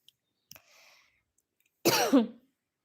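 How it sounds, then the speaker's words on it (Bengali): A person coughs in two close, loud bursts, clear and close up, after a brief faint click and a soft rustle, with no talking. "সরি আমার একটু কাশি হচ্ছে"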